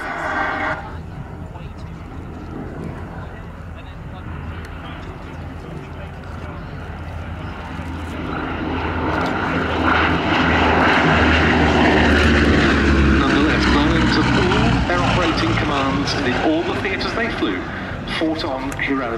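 A Bristol Blenheim Mark 1F twin-engine propeller aircraft flies at the Duxford summer air show, its engine drone swelling from distant to loud and steady as it passes, with a commentator talking throughout.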